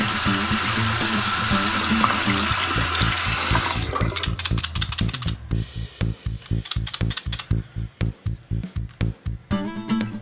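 Tap water runs steadily under a faucet as a Braun Series 9 electric shaver is rinsed, a continuous hiss breaking into spattering, rhythmic splashes as the shaver moves through the stream, close and fairly loud, no talk.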